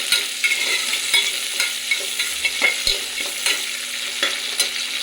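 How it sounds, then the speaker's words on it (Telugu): Sliced onions frying in a hot pan for poori curry, a close, steady sizzle with repeated sharp scrapes and clinks of a spatula stirring them, no voices. "ఇలా ఒక 2 మినిట్స్ ఉల్లిపాయలు వేగనిద్దాము"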